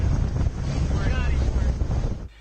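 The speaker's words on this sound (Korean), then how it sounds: "그린피스 환경감시선이 일명 쓰레기 섬을 찾아 태평양을 항해합니다" Wind buffets the microphone aboard a Greenpeace ship sailing the Pacific, with rushing water and sea noise continuing loudly before cutting off abruptly.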